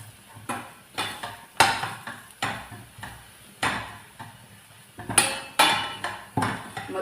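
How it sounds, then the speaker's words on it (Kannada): A spoon scraping and knocking in a pan while red chilli powder and spices are mixed for a samosa filling, with regular sharp clanks about every half second, close and clear. "Red chilli powder. ಇದನ್ನೆಲ್ಲ ಒಳ್ಳೆ ಮಿಕ್ಸ್ ಮಾಡುವ."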